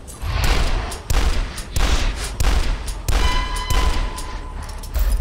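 Gunfire in the retro shooter Dusk: heavy, close shots land in a steady rhythm about once a second, each a sharp loud crack with a brief booming tail.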